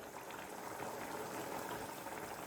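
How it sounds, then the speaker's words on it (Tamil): Chicken gravy without coconut boiling in a pot, a continuous soft bubbling simmer, close and fairly quiet, with no talk. "இப்போ நல்லா ஒரு கொதி வருது பாருங்கள்."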